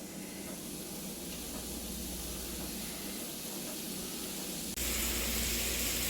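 A steady sizzling hiss comes from hamburger patties on a griddle. It runs constant and close, then jumps abruptly louder and brighter near the end, as if the sizzle has flared up.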